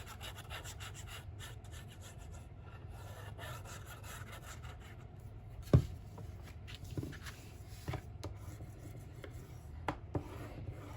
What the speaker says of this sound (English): Go ahead and burnish that.